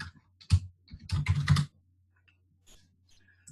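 Short bursts of typing on a computer keyboard, a quick click, then a dense flurry of keystrokes, close and clear, followed by near silence with a few faint taps.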